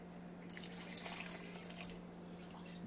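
Liquid is poured into a pan of old-school cornbread dressing with chicken, making a faint, steady splashing trickle over a low background hum.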